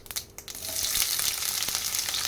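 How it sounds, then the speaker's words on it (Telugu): Half a spoon of mustard seeds fries in a pan with a steady, bright sizzle that quickly swells and holds, with faint crackles through it. "ఫస్ట్ అర స్పూను ఆవాలు వేస్తున్నా ఆవాలు ఫ్రై అయిన తర్వాత ఆనియన్ వేసుకోవాలి"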